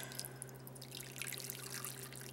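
Water runs and drips steadily while noodles are drained in a kitchen sink, a continuous splashing trickle at moderate volume over a low electrical hum, with no talking.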